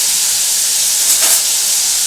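Pointed gourd sizzling in a frying pan of oil during Bengali potol dorma cooking, a loud, steady, close hiss that swells briefly midway, with no talking.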